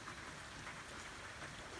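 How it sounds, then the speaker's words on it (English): Steady rain falls outdoors onto a workbench, a dense, even hiss of drops with no breaks, soft and continuous and without any voices. "I'm getting rain on that"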